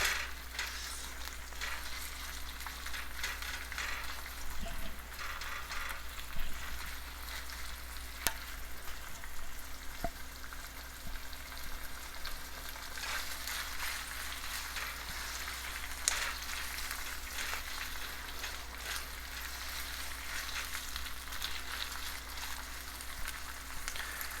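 Ginger and garlic frying in a pan, a soft, even sizzle that holds steady throughout with occasional faint clicks, nobody speaking.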